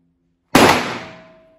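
A single pistol shot fired at an indoor shooting range in İzmir, with Canik TP9, Sarsılmaz SAR9 and Glock 19X handguns in use there, breaking out of silence as a sharp close bang and then ringing away over about a second.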